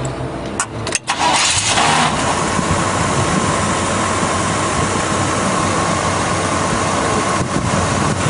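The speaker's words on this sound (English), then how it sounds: "We're going to turn it off, crank it back up again," A 1983 Chevy K10 4x4 pickup's engine cranks briefly, catches and settles into a loud, steady idle that carries on close by for several seconds.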